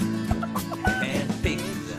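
Chickens clucking on a farm, a few short close clucks and squawks scattered over a low background with no talk.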